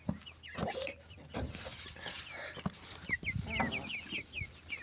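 Chickens cluck and squawk in a farm enclosure where young pullets are being raised, with repeated short calls scattered throughout amid rustling and handling noises, fairly close.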